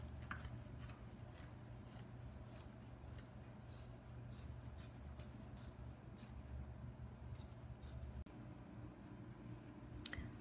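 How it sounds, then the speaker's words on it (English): Scissors snipping through fabric around a pattern for a bench cushion cover, a long series of quick, regular crisp snips over a low background hum. "so now I'm just going to cut out around my pattern."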